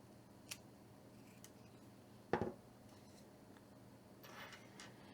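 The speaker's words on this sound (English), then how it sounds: "you'll want to cut off the metal zipper stop first" A single sharp snip of cutters biting through a metal zipper stop, with a few faint clicks and rustles around it in a quiet room.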